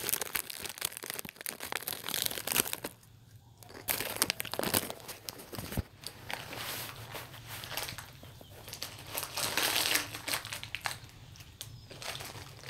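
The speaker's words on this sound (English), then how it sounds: "just finishing my Doritos" A bag of Doritos chips crinkles and rustles close by in irregular bursts, with crunchy chewing and handling noise and brief quiet gaps.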